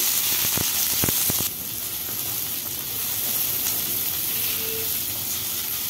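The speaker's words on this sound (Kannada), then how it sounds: "1 ಸ್ಪೂನ್ ಆಯಿಲ್ ಹಾಕ್ಕೊಡೋಣ. ಈರುಳ್ಳಿ 2, ಇದು ಹಾಫ್ ಬಾಯ್ಲ್ ನೀಟಾಗಿ ಫ್ರೈ ಮಾಡ್ಕೋಬೇಕು." Chopped onions fry in about a spoonful of hot oil in a pan for a goat-head mutton masala sambar, giving a steady, close sizzling hiss with a few light stirring clicks early on.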